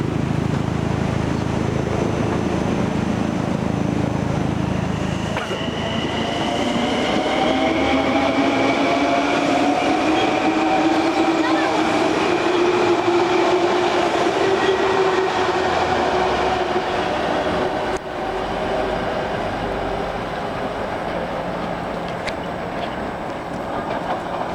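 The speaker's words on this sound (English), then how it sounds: "Alright, this is a Huntington bound train." Long Island Rail Road train bound for Huntington passing at a station, a loud sustained rumble of wheels on rails with rising and falling tonal whines, close by and steady for over twenty seconds.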